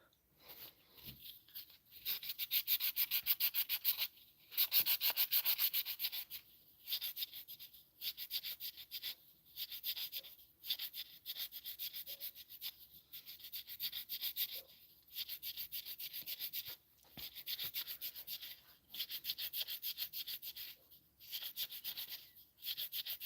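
Wood being sanded by hand with sandpaper while making tree earrings, a close, steady rasping scrape in long repeated strokes broken by short pauses, with no talk.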